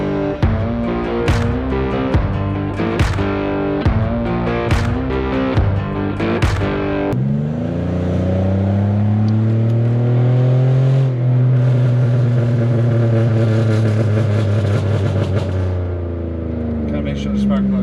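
Rough, loud idle of a Pontiac Bonneville's 3800 V6 with a misfire, heard first as an uneven, lumpy pulsing and then as a smoother, steadier drone with a rise in revs, close to the engine.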